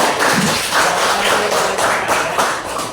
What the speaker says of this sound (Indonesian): Iya, tepuk tangan dulu ya.